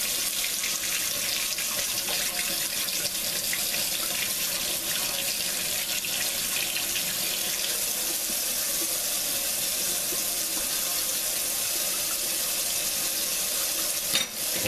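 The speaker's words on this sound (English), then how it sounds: "What I do is I turn on my water" Hot water runs from a kitchen tap into a sink in a steady, continuous hiss and splash, close and even for the whole stretch, with no talking over it.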